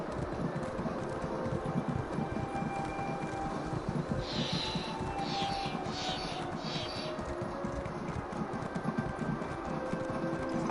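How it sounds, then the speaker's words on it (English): Horse hooves clop in a steady, fast rhythm while riding in Elder Scrolls Online, fairly faint under a constant game ambience with no talk. "I gotta give my horse more speed."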